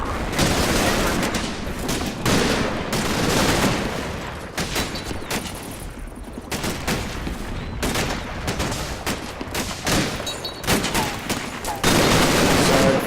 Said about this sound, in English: Firefight begins.